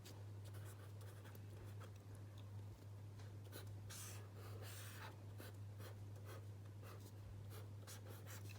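Handwriting on paper, a pen scratching in steady short strokes and pauses while writing out the ground-state electron configuration of zinc, close and clear over a constant low electrical hum, with no talking.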